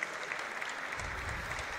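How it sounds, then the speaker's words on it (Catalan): Live applause from a crowd at an outdoor broadcast in Alcantarilla, Murcia, a steady dense patter of clapping throughout, moderately close and continuous with no voices standing out. "Està aplaudint, efectivament, en directe, així, des d'Alcantarilla"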